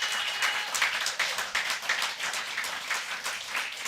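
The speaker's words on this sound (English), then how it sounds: "Another round of applause for Mai Der Vang and also for Kazim and Jos as well." Audience clapping for poets at a poetry festival reading, a steady wash of many hands at moderate loudness, sustained without a break and without voices.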